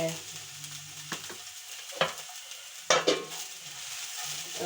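Onions sizzle steadily in a hot pan for onion dosa, with a few sharp utensil clinks and scrapes against the pan over the soft, continuous frying hiss.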